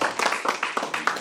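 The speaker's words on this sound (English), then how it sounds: "Clap for her again." Small audience clapping for a volunteer at a National Pollution Control Day gathering, a brief spell of close, uneven claps.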